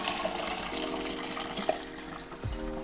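C41 colour film developer from a Bellini Foto kit being poured back into the developing tank, a faint soft stream of liquid with small gurgles and a splash near the end.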